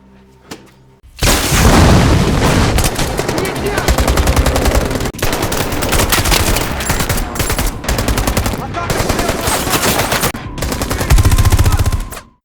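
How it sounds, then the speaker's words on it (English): A blistering movie firefight erupts after a short quiet lead-in: loud, dense machine-gun bursts and rapid gunfire mixed with heavy booming explosions, continuous and close for over ten seconds before cutting off abruptly. "the sound of an explosion alerted Dmitri's troops, kicking off a blistering firefight"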